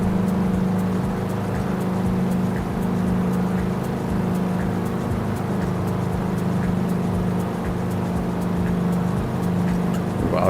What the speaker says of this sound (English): you can definitely hear the engine running a little bit faster now